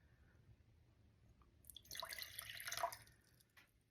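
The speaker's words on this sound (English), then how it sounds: "Then I'm going to add 50 grams of water" About 50 grams of water is poured into a jar on a kitchen scale for a sourdough starter, a brief splashing trickle that builds and ends after a couple of seconds, close and quiet in a still kitchen.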